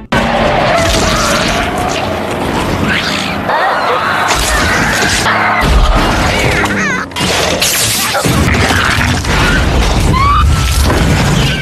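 A dense, loud cinematic barrage of booms, crashes and rumbling impacts from a truck exploding in a film, with swelling music-like tones, continuous throughout with no pauses.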